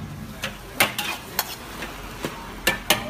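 Rice, vegetables and egg stir-fried over high heat in a pan at a one-dish eatery in Songkhla, Thailand: a continuous sizzle broken by irregular sharp clanks of a spatula against the pan, close and moderately loud, with no talking.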